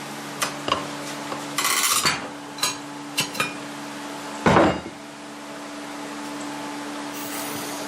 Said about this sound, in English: Grab my tire spoon.